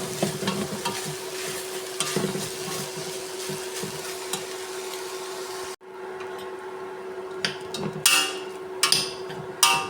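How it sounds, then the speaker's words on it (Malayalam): Cooked rice being stirred into a tomato mixture in a pan for tomato rice: a steady soft sizzle and scrape, then a brief pause followed by sharper, louder scraping strokes near the end. "ഇതിനകത്തേക്ക് നമുക്ക് ഇനി വേവിച്ച് വെച്ച ചോറ് ചേർക്കാം. നന്നായി മിക്സ് ചെയ്തിട്ട്"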